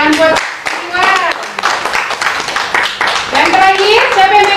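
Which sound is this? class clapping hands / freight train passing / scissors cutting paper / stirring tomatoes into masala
class clapping hands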